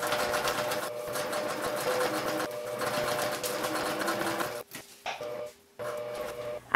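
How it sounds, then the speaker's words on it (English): A powerful straight-stitch sewing machine runs steadily while sewing a thick bag seam, a continuous close mechanical whir that stops and starts near the end, with a brief spoken phrase. "It's a super powerful machine. It's great for sewing through thickness, and that's why I love it for bag making."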